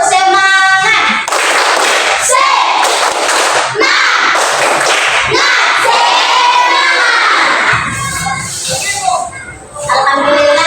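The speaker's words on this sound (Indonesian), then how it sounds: "Tepuk semangat." Primary school pupils in a classroom doing a spirit clap, loud rhythmic bursts of group clapping mixed with children chanting and shouting together, the pattern repeating in quick sets.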